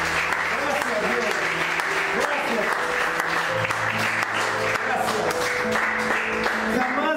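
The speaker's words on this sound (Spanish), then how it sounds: "Dale una ofrenda de palmas." A church congregation applauds with continuous, dense clapping that holds steady throughout, while a voice speaks over the applause.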